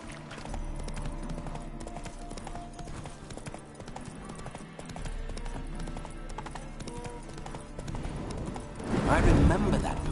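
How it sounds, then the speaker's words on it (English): Horse hooves clip-clopping in The Witcher 3, a steady galloping rhythm under a continuous game soundscape, with a burst of louder noise near the end. "Spooking my horse. Roach doesn't like ghosts."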